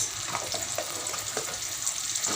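Ginger sizzles in a pan with lightly browned onions for a chhilba fish curry, a faint, steady frying hiss broken by soft stirring clicks.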